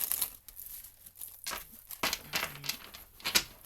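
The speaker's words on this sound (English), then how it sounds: "And final shuffle." A deck of cards gets a final shuffle during a spiritual card reading, making crisp riffling and flapping bursts in uneven spurts, close and fairly loud, with short quiet gaps between.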